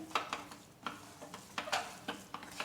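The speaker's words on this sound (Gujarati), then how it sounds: "ફરી આપણે બધું સારી રીતે મિક્સ કરી દઈશું" Farali sukhadi mixture with dry fruits stirred in a pan off the flame, a quick series of soft scraping, clicking strokes in an uneven rhythm, close but fairly quiet.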